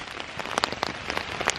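Rain patters on a tent, with dense irregular drops and sharper close taps on the fabric, steady and nearby, with no voices.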